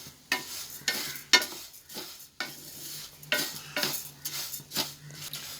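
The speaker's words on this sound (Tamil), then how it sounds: "பாசிப்பருப்பை இன்னும் நல்லா வறுத்துக்கலாம்." Moong dal dry-roasting in a pan for payasam, with repeated scraping stirs of a spatula against the metal and a faint sizzle beneath, close and steady with rhythmic bursts and no talking.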